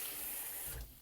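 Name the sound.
fresh cold water running into a pot to rinse it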